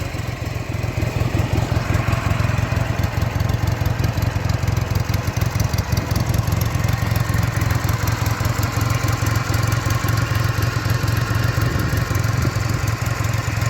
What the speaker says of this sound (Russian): Реально с полтыка завелся, Тём.